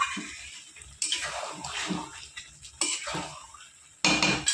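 Metal pot lid lifted and a spoon scraping through oil-free chicken curry in a pot, giving several clinking, clattering bursts of cookware noise separated by brief pauses, close and moderately loud.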